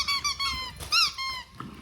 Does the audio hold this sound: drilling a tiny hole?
no